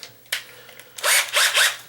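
Power drill boring into a wood 2x4 stud behind a door frame during a sagging double door repair, heard as a short whir followed by several loud, close bursts of high-pitched drilling.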